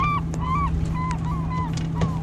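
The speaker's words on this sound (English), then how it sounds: "You just don't know the seagull call sometimes." A seagull in Alaska gives a series of short, nasal honking calls, about a dozen in quick succession, over a steady low hum.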